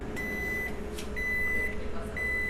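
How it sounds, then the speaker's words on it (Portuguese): A microwave oven alarm sounds three times, each a clear, steady high-pitched electronic beep of about half a second, spaced roughly a second apart over a low room hum. "Daniela não consegue perceber alguns tipos de sons, como o alarme do micro-ondas."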